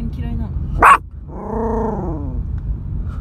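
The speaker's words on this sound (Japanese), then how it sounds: "どこ見て吠えてんの" A dog lets out a sharp bark followed by a low, drawn-out growl, close and loud against a background of steady car-interior rumble.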